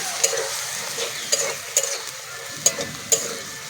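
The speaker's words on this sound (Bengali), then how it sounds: "ভালো করে লাল লাল করে মশলাটা ভেজে নেব।" Spices fry in oil in a pan with a constant close sizzle, broken by several sharp scraping clicks as a spoon stirs them at uneven intervals.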